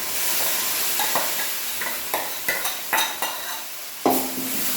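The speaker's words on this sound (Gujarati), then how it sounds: "પછી આપણે મોરૈયો ધોઈ અંદર એડ કરી લેવાનું" Washed barnyard millet is stirred into a pan of sizzling oil with cumin, peanuts and green chillies, a steady frying hiss broken by several sharp spoon clinks against the pan, with no talking.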